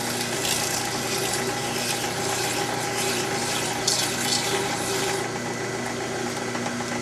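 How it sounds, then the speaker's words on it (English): Sandpaper of 150 grit rubs steadily against a nail axle for a pinewood derby car, a continuous hissing scrape that runs unbroken for several seconds at close range, with no voices over it. "Now I'm going to take a bit of sandpaper. In this particular case, I'm using 150 grit."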